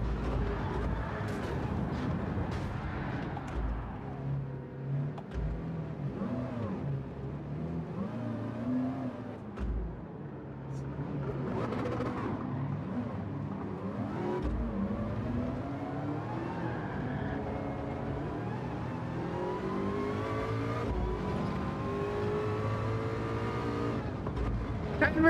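Race car engines in Gran Turismo 7, including a Mazda, drone and whine continuously, rising and falling in pitch through shifts and acceleration, loud and sustained across the whole stretch with no pauses.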